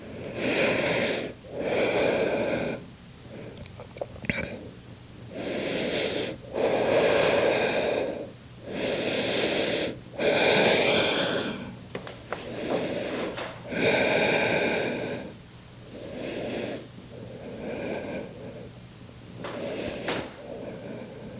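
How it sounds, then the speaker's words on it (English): Slow, deep cleansing breaths held in a lizard lunge yoga pose, each long audible inhale and exhale repeating in a steady rhythm, close and fairly loud with short quiet gaps between. "take 5 cleansing breaths here in your lizard lunge"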